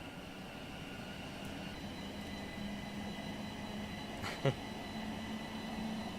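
Air conditioning hums steadily aboard a train in Train Simulator Classic on the Midland Mainline, a constant low drone with a faint tonal whine and one brief click partway through, no voices.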